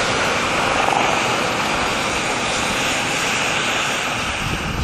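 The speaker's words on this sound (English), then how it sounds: "hear in the background is Charlie Matthews, the pilot from the Typhoon, getting it cranked up ready for takeoff" A Eurofighter Typhoon jet engine roars steadily as it spools up for takeoff on a runway, a loud, dense, continuous rumble and rush heard alone with no talk.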